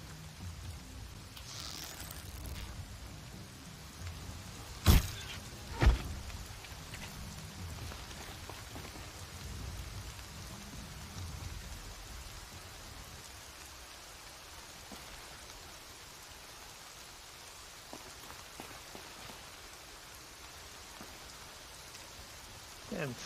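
Steady rain patters down in a dark night scene of the video game Horizon Zero Dawn, a soft continuous hiss with two brief sharp knocks early on and no speech.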